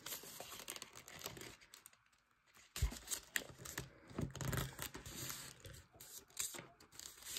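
Origami paper is creased and folded while making a spy plane model, a close, soft, continuous crinkling and rustling with brief crisp snaps, recorded quietly with no voices.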